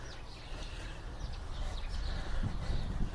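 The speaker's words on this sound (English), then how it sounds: "Always love listening to the birds." Birds sing outdoors, faint scattered chirps and calls set against a steady low rumble of ambient noise, with no clear talking.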